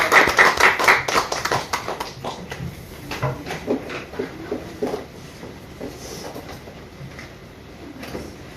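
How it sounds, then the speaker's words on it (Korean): A church gathering claps to welcome a visiting pastor, opening with loud rhythmic clapping that gradually loosens into scattered, fading claps and taps before dying away almost completely. "큰 박수로 맞이하겠습니다"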